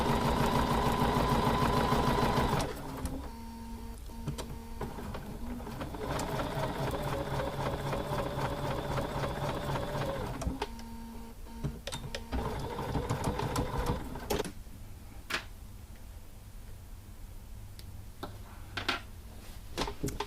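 A sewing machine stitches a quilt top seam at the corner of the top, running in steady bursts of rapid mechanical whirring with short pauses between runs, close and fairly loud.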